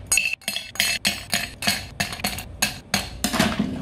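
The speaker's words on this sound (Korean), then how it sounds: "쉐이커에 얼음을 8개에서 10개 정도 넣어줍니다" Eight to ten ice cubes are dropped one by one into a metal cocktail shaker, a string of close, sharp clinks and clatters at an uneven pace.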